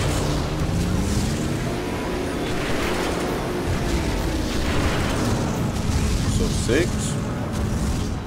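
Rocket explosions in 007 NightFire go off as a dense, continuous roar of blasts and booming rumble, loud and sustained throughout, with someone talking over it.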